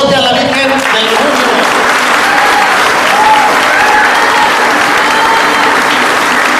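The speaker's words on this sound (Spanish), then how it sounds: "a que les demos un fuerte aplausote a todos los que organizaron" Loud, sustained applause from a crowd at a patronal festival in Boquilla del Refugio, steady clapping filling the space with cheers mixed in.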